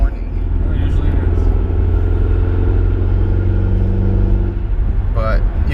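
Audi A4 with an upgraded K04 turbo driving under light throttle, loud steady engine rumble and cabin drone with faint rising whine over it, while people talk throughout.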